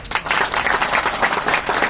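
An audience at a gathering where a memorandum of demands is being presented claps in a dense, lively round of applause that stays loud and even throughout.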